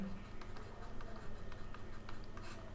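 Someone writes by hand during a vocabulary lesson, with quick scratchy pen strokes in short, repeated bursts while a voice talks over them.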